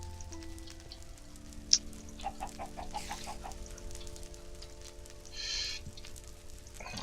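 Chickens in the Minecraft Better Than Wolves mod, with soft clucks and a sharp chirp among low steady game tones, a short rising run of pitched blips, and a brief hiss later, all fairly quiet.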